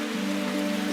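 Steady rain hisses without a break in the game Root Letter, a dense, even wash over a low constant hum with no voices.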